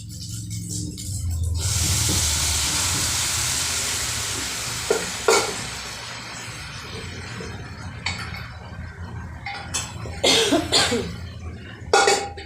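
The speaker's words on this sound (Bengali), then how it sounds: "এবার আমি এটাকে, এই সিটি মারা মাংসটাকে ঢেলে দেবো।" Pressure-cooked meat tipped into a hot pan hisses into a loud, steady sizzle that slowly fades, followed by scattered sharp spatters and utensil knocks.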